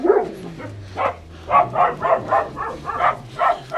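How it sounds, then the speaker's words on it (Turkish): Puppies growl and grumble in short rhythmic bursts, close by, with low rumbling snarls repeating steadily. "Yavrular da hırlaştı."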